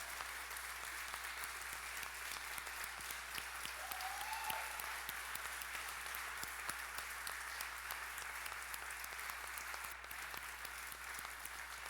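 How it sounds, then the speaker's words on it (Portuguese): A church congregation stands and applauds during an evening worship service, producing a continuous wash of many hands clapping that is steady and distant in tone and lasts the whole stretch. "Vamos aplaudi-los em pé."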